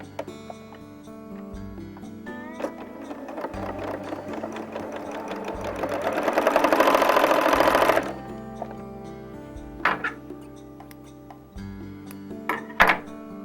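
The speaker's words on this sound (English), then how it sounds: "And so now I'm sewing the last 2 pieces." A sewing machine stitches quilt pieces in a fast, steady mechanical whir that builds louder toward the middle, then stops, followed by a few separate clunks and ticks nearby.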